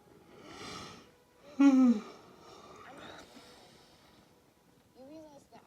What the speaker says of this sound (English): First yawn of the movie.